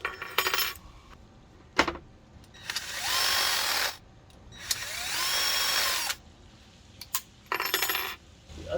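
A power drill widens bolt holes in a van cabinet part, giving two long whirring bursts between sharper clicks and clatter from handling the workpiece nearby.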